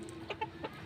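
A rooster gives a few soft, quick clucks, faint and close together, over a low steady background hum.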